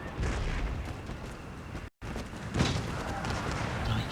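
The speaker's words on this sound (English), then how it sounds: "Here it comes again. There's another barrage." Artillery barrage in Empire Total War, a rolling wash of distant cannon booms and bursts blending into a steady rumble, moderately quiet, with one brief dropout partway through.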